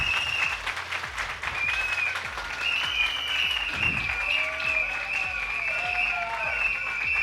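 Audience applause during a motivational goal-setting seminar in a hall, a steady dense wash of clapping held for several seconds, with faint tonal tones and murmurs mixed underneath.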